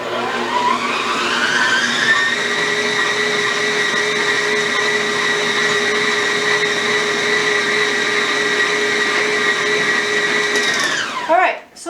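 An electric mixer works rugelach dough with a loud, steady motor whine that holds for several seconds, then spins down and stops at the end.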